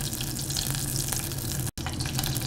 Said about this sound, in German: Man hört auch die Butter, jetzt springt sie nicht mehr so doll, nur noch vereinzelt.